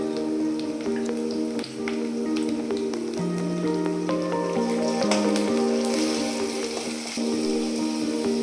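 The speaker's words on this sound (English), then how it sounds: "we'll be adding a ginger garlic paste and stir it for at least 1 minute" Ginger garlic paste sizzles in a hot pan while being stirred, a crackling, spattering fry with scattered pops and scrapes over a musical background.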